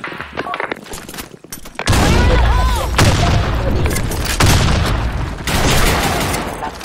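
Grenade blast in a multiplayer shooter video game, a loud booming burst amid rapid gunfire and repeated heavy impacts, with players talking over the action.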